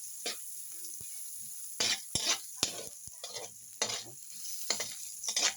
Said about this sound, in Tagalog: Sigulayin po natin ang luya.